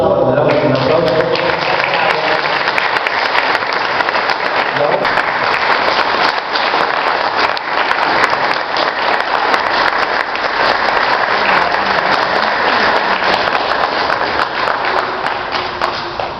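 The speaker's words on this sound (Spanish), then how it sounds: "Un aplauso, le damos un aplauso." A dense, sustained round of audience applause at an evening gathering, loud and continuous from start to finish with no gaps.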